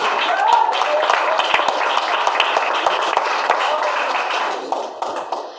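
Church congregation clapping together in praise, a dense, continuous patter of many hands that thins out near the end, with voices audible amid the applause.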